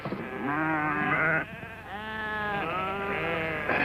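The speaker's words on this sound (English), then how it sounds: "Lassie, cut out Val's sheep." Sheep bleat repeatedly, one wavering call after another, close and fairly loud with a quiet gap between calls.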